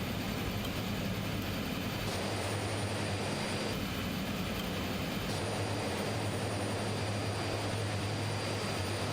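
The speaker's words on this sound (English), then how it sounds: "You can hear the aircraft is slowly basically shutting itself down." A Twin Otter twin-turboprop in Microsoft Flight Simulator spools down during shutdown, a dense, steady engine and airflow roar with a low hum underneath and a few faint clicks, with no voices.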